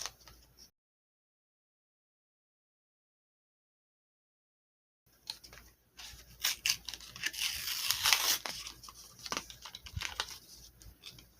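Close-up cutting and tearing open of a taped Barbie Dream House blind box, with crinkly scissor snips and rustling packaging that grow busier and louder after a brief silence.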